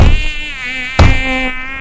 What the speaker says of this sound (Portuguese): Ô, mosquito filho da puta!